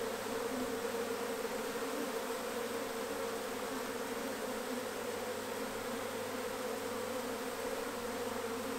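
A swarm of bees buzzes steadily as it marches into a hive during a swarm capture, a dense continuous drone with no talk.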